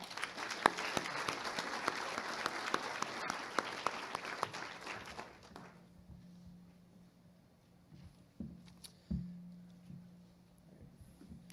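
Applause from the audience at a high school FFA annual banquet, a dense round of clapping for about five seconds that cuts off, leaving a quiet room with a few faint scattered sounds.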